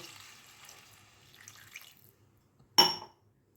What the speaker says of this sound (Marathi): त्या भाजीमध्ये अर्धा ग्लास पाणी घालूया